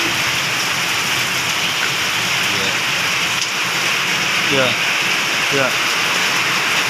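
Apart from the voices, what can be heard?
heavy rain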